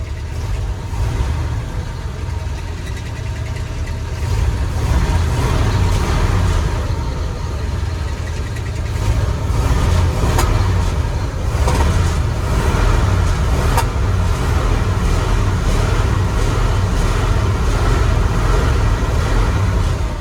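The V8 engine of a 1977 Ford F250 Custom pickup runs steadily with a loud, low exhaust rumble throughout, with a brief stutter and a sharp exhaust pop partway through.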